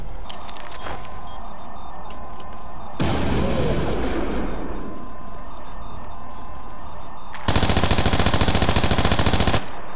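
Loud bursts of automatic gunfire in the Spies vs Mercs video game, a dense rapid rattle that comes in two long sustained streams, with quieter shots and clatter in between.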